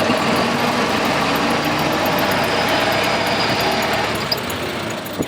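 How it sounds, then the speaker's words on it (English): A Ford Model T engine runs in first gear, a loud, dense mechanical drone with rattling vibration, steady and close throughout, with a couple of small knocks near the end and no talk. "first gear, that loud gear with all the vibration, it's really just to get you going from a standstill."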